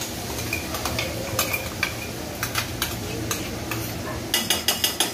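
Garlic and ginger paste stirred in a pan over a low flame for veg fried rice, with steady soft sizzling under repeated light scraping and clinks of a spoon against the pan, ending in a quick run of taps.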